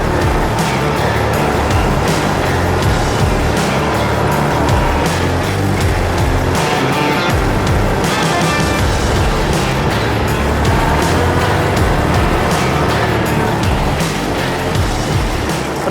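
Kubota KB-20 Japanese mini tractor running and maneuvering, a loud, continuous engine clatter close by with rough, uneven pulsing and a few brief surges, no talk over it.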